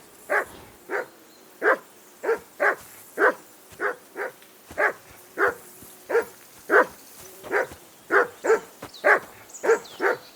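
A dog in the video game Kingdom Come: Deliverance II barks repeatedly in a steady series of about seventeen sharp, close woofs, some with a whimpering edge, spaced roughly half a second apart with no talk.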